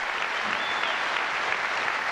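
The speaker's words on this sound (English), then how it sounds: "the crowd really getting behind David Evans here, Jonah." Steady applause from the crowd at the 2000 British Open squash final, loud and continuous throughout with no talk over it.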